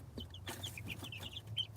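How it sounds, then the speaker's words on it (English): A hen clucks softly in short, quick notes over a low steady hum, fairly close but quiet. "Oh, that's the hen."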